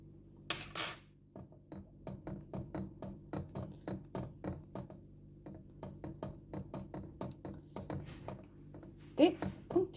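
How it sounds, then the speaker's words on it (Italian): A utensil stirs melt and pour soap with chopped chamomile in a container, producing a steady run of light clinks and taps in a regular rhythm, close and quiet, with no talking. "E continuo a girare, a girare, a girare."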